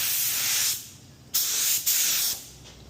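Aerosol spray paint hisses in several close bursts onto car parts such as a steering shaft and carburetor spacer plates for a Big Block Ford 460 tunnel ram build, with short pauses between sprays and no talking.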